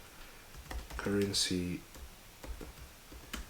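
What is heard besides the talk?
typing on a computer keyboard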